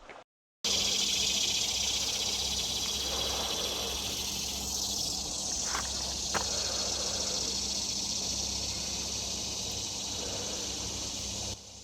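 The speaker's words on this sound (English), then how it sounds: "Cicadas. That's what I was trying to talk about the other day" Cicadas drone loud and steady outdoors on a hazy, breezy day, a continuous high hiss that holds without a break for the whole stretch.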